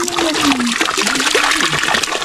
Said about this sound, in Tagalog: Ito yung water source dito sa campsite.